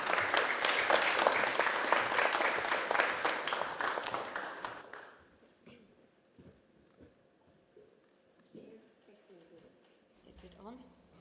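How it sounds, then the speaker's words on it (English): Conference audience at the opening session gives warm applause, loud dense clapping for about five seconds that then fades away into a quiet room with a few scattered sounds. "Please give them a warm applause."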